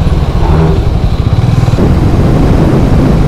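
A Harley-Davidson motorcycle rides along a good road toward Guhagar near Chiplun, its engine a loud, steady low rumble with wind noise throughout, no voices.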